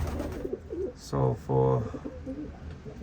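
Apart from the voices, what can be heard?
racing pigeons cooing at the loft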